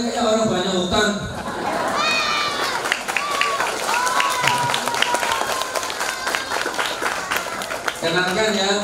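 Audience at an Islamic boarding school graduation ceremony claps steadily, a dense, loud patter of many hands running throughout, with a voice and some calling out over the applause.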